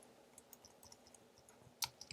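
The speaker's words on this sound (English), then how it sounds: "You're going to type in your name." Typing on a computer keyboard: faint, scattered key clicks close by, quiet and irregular, with one slightly louder tap near the end.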